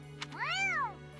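A cat in Fire Emblem: Three Houses gives one clear rising-and-falling meow, fairly quiet and close, over a faint steady background hum, preceded by a brief soft click.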